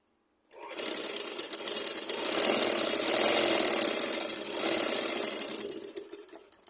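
A sewing machine stitches a petticoat at the shoulder seam, starting after a brief pause and running as a close, loud, continuous whirring hum that surges slightly in speed before easing off near the end.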